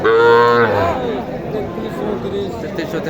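A loud, drawn-out cow moo rings out up close at the start at a cattle market in Kolahat, Naogaon, Bangladesh, fading into a lower rumble of background noise.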